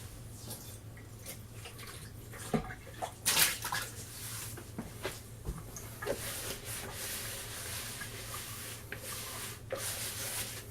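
Kitchen tap running while something is rinsed, a faint continuous hiss of flowing water with scattered splashes, rubbing and clinks close by, no speech.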